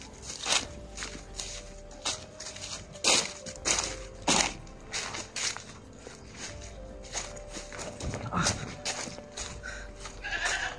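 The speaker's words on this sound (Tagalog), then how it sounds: "May kambing mga tol." Goats bleat a few times amid crunching footsteps on rough ground, with the animals fairly close.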